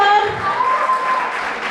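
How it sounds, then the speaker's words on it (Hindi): A crowd at a school event applauds a student introduced on stage, a loud, continuous wash of clapping and cheering with a voice speaking over it. "तालियां जोरदार"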